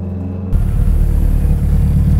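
A Toyota AE86 fitted with a 3S engine accelerates after a brief quiet start, its loud, steady low engine drone rising and holding close by.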